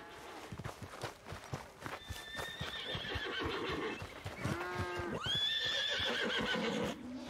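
A horse whinnies twice with rising, quavering neighs in Red Dead Redemption 2, with hoof clops and shuffling steps in the background.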